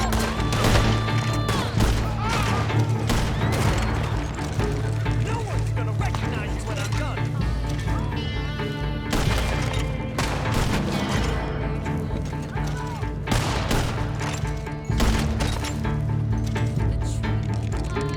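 Gunfire in the Western video game Red Dead Online: sharp shots crack repeatedly through a dense, loud mix of steady game music and ambience, with speech in the background.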